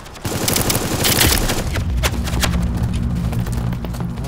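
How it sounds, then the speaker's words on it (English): Rapid bursts of gunfire from shooting in the video game Sector's Edge, loud and sustained, with dense automatic fire and scattered sharp shots layered over game music throughout. "I'm shooting like crazy behind me."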